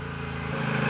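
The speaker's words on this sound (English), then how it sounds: "with rolling the throttle it sounds like a sports bike" A Honda Rebel 1100 cruiser motorcycle revs up as the throttle is rolled on, giving a close, loud, steady engine drone that builds in pitch and volume over one second.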